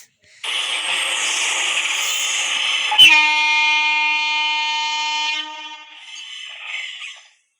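A loud, sustained train horn in a train video game blasts alone for several seconds, sounding synthetic and clean, with a sharp click partway through and a softer tail at the end.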